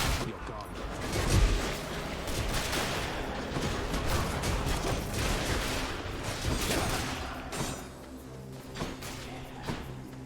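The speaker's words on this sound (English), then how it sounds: "That was just a lot of death and explosions." Dense, continuous combat din from the Hades video game: rapid impacts, blasts and explosion bursts pile up at a steady loud level for the whole stretch, with a heavy low thump early on and a brief dip near the end.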